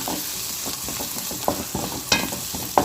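Onions sauté in a pan for an anchovy fish curry, a close, steady sizzle broken by repeated scraping strokes of a spatula.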